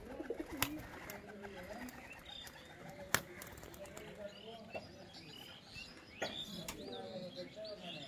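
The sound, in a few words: pigeons cooing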